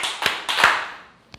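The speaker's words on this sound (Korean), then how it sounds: "다시 한번 박수 3번 치고 시작하겠습니다" A church congregation claps its hands together three times at a Wednesday worship service, three sharp, distinct bursts spread across a second and a half, with the last one softer.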